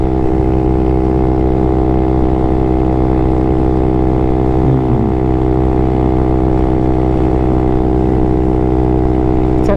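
A Honda Grom small motorcycle engine on a motorway drones steadily at high revs in top gear, loud and close, holding one even pitch throughout.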